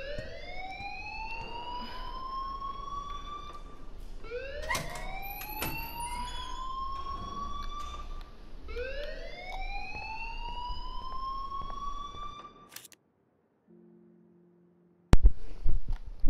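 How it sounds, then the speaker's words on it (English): An alarm in the video game Life is Strange wails in repeated rising sweeps, loud and close, each cycle lasting about four seconds, then cuts off into near silence before a burst of other game sound. "please turn off that alarm since that's your job"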